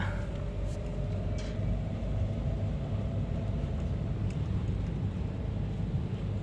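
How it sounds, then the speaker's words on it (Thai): Toyota Avanza car engine with a faulty alternator idles unusually quietly as a low, steady rumble, heard alone and continuous throughout with no voices. "เสียงรถยนต์จะเบา"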